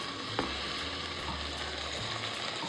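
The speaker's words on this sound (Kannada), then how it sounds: "ಚೆನ್ನಾಗಿ ಗೋಲ್ಡನ್ ಬ್ರೌನ್ ಬರೋವರೆಗೂ ಚೆನ್ನಾಗಿ ಹುರ್ಕೋಬೇಕಿದನ್ನು" Onions and tomato sizzle steadily in a pan for chicken curry, a close, continuous hissing fry with a light stir or two and no voices.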